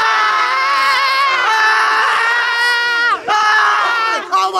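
A concert crowd of fans yells and screams together in a loud, sustained roar of many voices, briefly dipping before surging again.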